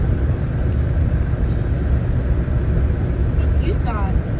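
A car drives along a highway under a foot of deep snow during a blizzard, its steady engine and road rumble filling the cabin close up, with a voice talking over it.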